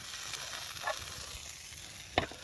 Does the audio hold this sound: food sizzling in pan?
yes